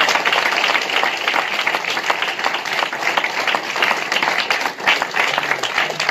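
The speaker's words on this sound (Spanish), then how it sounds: "Denle un aplauso al Señor Jesucristo" A church congregation applauds steadily, dense clapping filling the space at a fairly loud level, sustained without a break.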